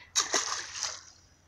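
A chub caught in the Struma river splashes back into the water on release, two or three quick wet splashes close by, fading into a short trickle.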